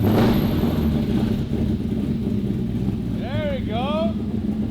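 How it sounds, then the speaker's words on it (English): A Ford Coyote V8 swapped into a 1950s Ford truck runs with a steady low rumble close by, while someone speaks briefly and squealing, chirping sounds rise near the end. "That actually sounds okay too. Really A decent good. sounding Coyote."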